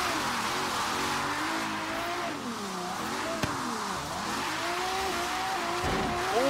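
A Regalia in Forza Horizon 3 drifting around a parking lot, tires squealing in long wavering whines over a steady engine drone that rises and falls as the car slides.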